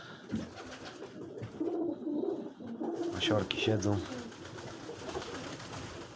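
Soft pigeon cooing, low repeated coos, with a person speaking briefly over it.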